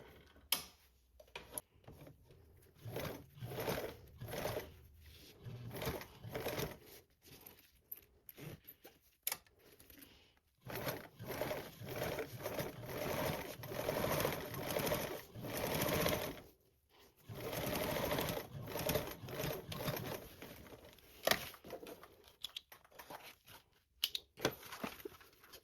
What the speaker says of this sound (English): You're going to top stitch that with the 1/8.